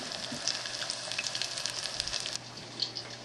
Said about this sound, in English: so these are fried until they are golden brown